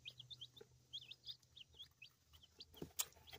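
Leghorn chickens cluck and chirp in a steady stream of short calls at close range, with no talk over them.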